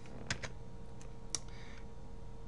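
Someone types numbers into a spreadsheet on a computer keyboard, a few quiet, close key clicks spaced irregularly over a faint steady hum.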